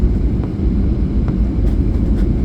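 A passenger airliner on a Chennai to Mumbai flight lands in Mumbai, heard as a heavy, continuous low rumble from inside the cabin with faint rattles and no talking.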